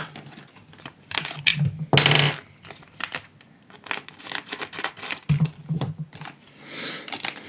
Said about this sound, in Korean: 이건 가위를 좀 쓸게요.